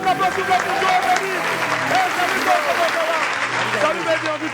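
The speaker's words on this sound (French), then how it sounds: "Maximum d'applaudissements pour Joe et Mehdi." A TV show audience applauds a music group, dense sustained clapping and crowd noise filling the room, with a host's voice speaking over it.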